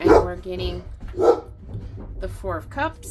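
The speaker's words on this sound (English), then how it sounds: "Sorry about the dog." A dog barks indoors a few times at moderate distance, sharp separated yaps under and between a person's talking.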